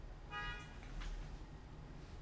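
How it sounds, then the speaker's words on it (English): A short car horn honk sounds from outside, a single brief tone that is moderately loud above a steady background hum, with no voices. "Someone's honking their horn."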